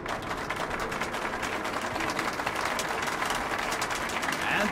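Crowd applause in Metro Last Light Redux at an exhibition show: dense, steady clapping and cheering that holds at an even level throughout.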